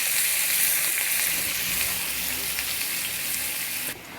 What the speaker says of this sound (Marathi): 2 मोठ्या आकाराचे कांदे एकदम बारीक चिरलेले छान सोनेरी होईपर्यंत आपल्याला फ्राय करून घ्यायचे